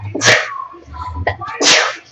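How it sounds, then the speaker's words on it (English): One loud, close sneeze in two sharp bursts, the second stronger, with a short breathy gap between them and no speech. "Oh, I sneezed there"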